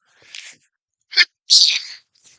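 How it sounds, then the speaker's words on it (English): A single close sneeze, preceded by a breathy intake of air and followed by a faint trailing breath. "Sorry, I just sneezed."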